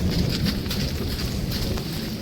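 Heavy rain roars down in a dense, constant wash of noise during a storm, loud and close, with no other sounds standing out.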